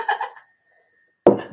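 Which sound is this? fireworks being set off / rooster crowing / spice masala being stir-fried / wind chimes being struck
wind chimes being struck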